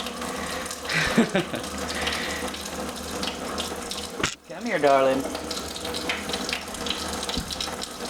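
Steady running water from a tap splashes throughout while a water filter is flushed, with a brief voice speaking over it partway through.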